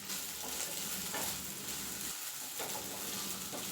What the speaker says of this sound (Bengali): মাংসটা ভেজে নেব